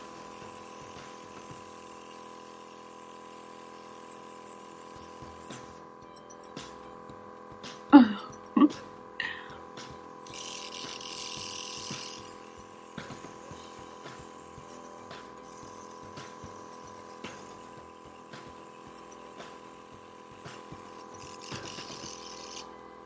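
An airbrush makeup compressor runs with a steady, even motor hum from start to finish, with a few sharp clicks and knocks near the middle.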